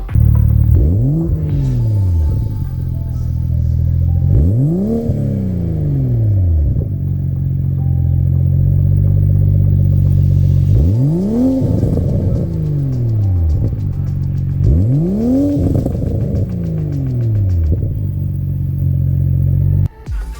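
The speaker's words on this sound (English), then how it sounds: "let's get into the way the made A90 single X exhaust sounds with the stock downpipe" A 2023 Toyota GR Supra A90 with a Made single X exhaust and stock downpipe revs hard four times, each loud, close sweep rising and falling back to a deep, steady idle rumble.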